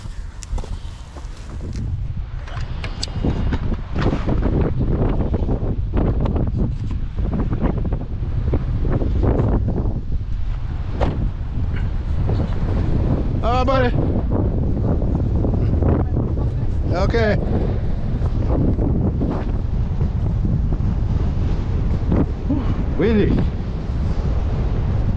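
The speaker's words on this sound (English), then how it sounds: "Much stronger wind today." Strong wind buffets the microphone on a fishing boat out striped bass fishing, a steady loud rush with water slapping the hull, while people talk intermittently throughout.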